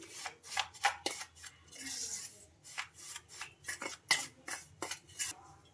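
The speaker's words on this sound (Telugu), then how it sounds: "స్పూన్ తోటి మొత్తం ఇలా కలిపేసుకుందాం ఒకసారి" A spoon scrapes and clinks against a bowl while sago powder and curd are mixed together, giving a rapid series of close, crisp scraping strokes with brief pauses and no talking.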